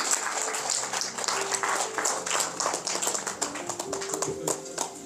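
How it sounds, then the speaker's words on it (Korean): Audience applause at a commemorative ceremony honoring award recipients, steady and fairly loud for several seconds, with speech and a tonal background sound running underneath. "여러분께서 다시 한번 큰 박수로 축하해 주시면 좋을 것 같습니다"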